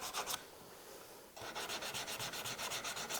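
Sandpaper rubbed by hand along the edge of a wooden cutting board, giving a quick burst of scraping, a short pause, then a steady run of close, rhythmic back-and-forth strokes.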